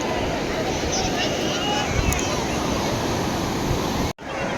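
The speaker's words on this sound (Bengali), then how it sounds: "ছোট ছোট ঢেউ না এখন।" Small sea waves washing onto a beach at Udaipur during rain, a loud continuous rushing wash close to the microphone with wind buffeting, cutting off abruptly near the end.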